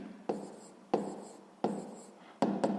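A pen writes on paper during a sixth-grade maths lesson in four short, close scratching strokes, each with a sharp start, and no voices.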